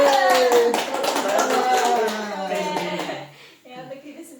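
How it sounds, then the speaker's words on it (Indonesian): An audience applauds at a talk explaining a classical Quranic commentary, with a dense burst of clapping that fades over a few seconds while voices talk over and after it. "Mari kita tepuk tangan."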